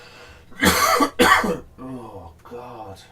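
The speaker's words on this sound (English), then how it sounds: "Sorry for the coughing" Two harsh, close coughs in quick succession, followed by rougher throat-clearing sounds and a voiced grunt.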